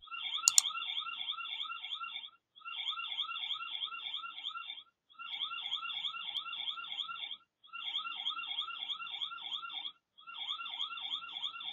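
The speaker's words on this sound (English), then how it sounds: "Sounds like he set off the alarm or something." An electronic alarm at a house door wails in repeating bursts, each a couple of seconds long with short gaps, warbling steadily at moderate volume.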